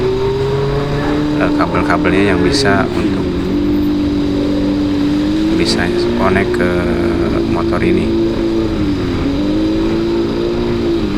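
A Yamaha NMAX 155 scooter fitted with a four-cylinder sound module hums with a steady, buzzy engine note that rises and dips as it revs, with someone talking continuously over it.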